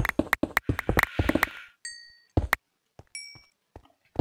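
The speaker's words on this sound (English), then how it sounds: "I heard her little bell on her collar" A small bell on a cat's collar in a video game rings in two short, bright chimes, separated by a second or so, amid quick clicking and tapping sounds.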